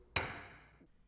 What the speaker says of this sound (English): line the punch up with the marked location, and hit it with 1 stroke of the hammer